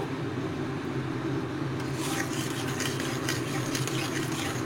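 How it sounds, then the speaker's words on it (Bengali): Spice masala being stirred and fried in a pan for a paneer curry, soft continuous sizzling with scraping spoon strokes that grow busier partway through, recorded close and fairly quiet with no talking. "এবার আবারও মশলাটিকে কিন্তু কষাতে হবে"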